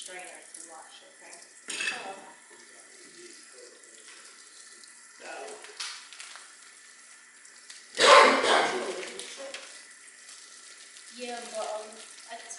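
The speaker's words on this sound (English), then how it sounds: "We're going to use the strainer to wash" Running tap water pours over vegetables in a strainer at a kitchen sink, with intermittent splashing, a loud gush midway and clinks of dishes and utensils under conversation.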